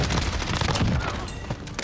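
Dense, rapid gunfire rattles continuously through a video game shootout, loud and close with overlapping bursts and no talking.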